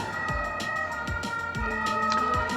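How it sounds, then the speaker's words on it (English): An ambulance siren wails in the background behind a steady indoor hum, its tone rising and falling repeatedly at a distance, with no one speaking. "You hear the ambulance in the background."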